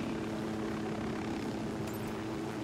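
Helicopter in the Ghost Recon video game: a steady, continuous rotor and engine drone heard from a distance, even in level throughout, with no speech.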